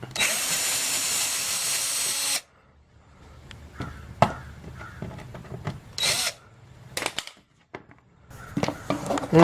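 Power driver with a 5/16 drive removing screws near the front bumper of a Mercedes during headlight repair, a loud steady whir for two seconds, then clanks, rattles and short bursts of motor buzzing.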